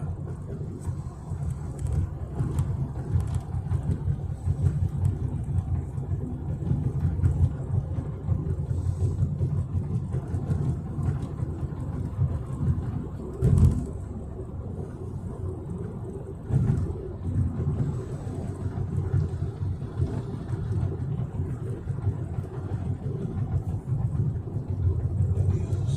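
A car cruises along a freeway, a steady low engine and road rumble with tyre noise holding constant throughout, one brief thump midway, no talking.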